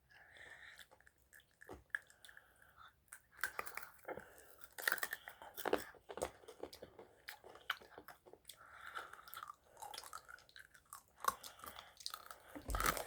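Someone chewing and crunching hard rock candy close to the mic, with irregular sharp crunches, bites and softer squishy chewing sounds throughout, fairly quiet overall.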